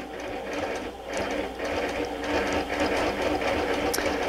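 A longarm quilting machine stitches in the ditch along an appliquéd quilt, a close, steady mechanical whir with a quick repetitive ticking of the needle, moderately loud and uninterrupted.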